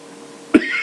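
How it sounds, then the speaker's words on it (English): A single short, sharp cough from a dog, used as a story sound effect, bursting out once over a quiet background and fading quickly. "Why am I coughing so bad?"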